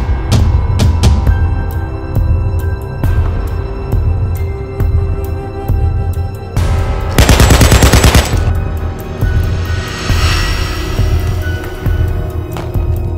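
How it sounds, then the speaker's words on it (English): Loud, close gunfire: scattered single shots and sharp cracks, then a dense, rapid burst of machine-gun fire in the middle, followed by more intermittent shots, with no talking. "Forget about the gunshot."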